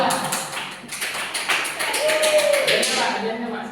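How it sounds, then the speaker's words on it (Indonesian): Classmates in a primary school science class clap their hands in a short burst of quick, dense claps, with talk and cheering mixed in. "Tepuk tangan"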